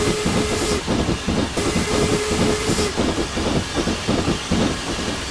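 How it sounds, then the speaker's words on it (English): A steam train in Train Simulator 2012 chugs along with rhythmic exhaust beats and steady clatter, interrupted by short hissing bursts and a faint tonal whine, loud and continuous with no talking. "when you're driving a steam train, yeah, it can get a little bit aggravating"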